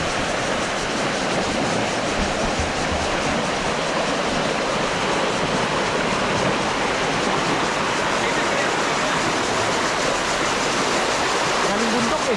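Water from a mountain stream rushes in a loud, dense, unbroken roar close by, steady from start to finish with no pauses.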